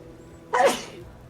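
A single sharp human sneeze, close and loud, bursting out after a quiet moment and fading quickly.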